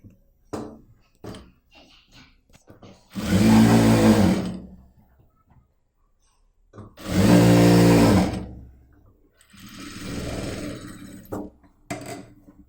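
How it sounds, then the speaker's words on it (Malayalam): A sewing machine stitches cloth for a sewing machine cover in two loud, steady bursts of a few seconds each, with a softer whirring run afterwards. Scattered clicks and handling noises fill the pauses between the runs. "അപ്പോൾ ആദ്യമേ നമുക്ക് ഈ ഭാഗത്തുനിന്ന് സ്റ്റിച്ചിങ് ഇതുപോലെ സ്റ്റാർട്ട് ചെയ്യാം."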